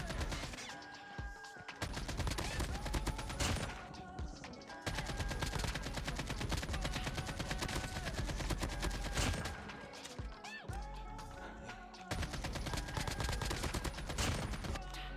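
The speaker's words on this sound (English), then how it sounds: "They nailed it with the sound of the AK-47" AK-47 fire in the mobile shooter game Call of Duty Mobile, long sustained automatic bursts crackling loudly with short gaps between strings of shots.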